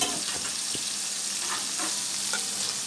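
Dal cooks in a pan on a home gas stove, giving a steady, moderately loud sizzle with a few faint clinks and stirring scrapes scattered through it.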